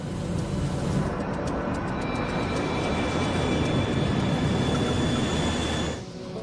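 Airliner engines at cruising speed after an engine explosion, a loud dense steady roar heard from inside the plane, continuous throughout and dipping slightly at the end.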